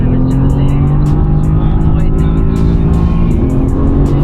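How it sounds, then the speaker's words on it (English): Mercedes-AMG GT R Pro race car driven hard on a track, its engine droning loud and steady with a sustained low roar and a faint rhythmic ticking overhead, a voice talking over it throughout. "We're putting pressure on the AMG GTR Pro"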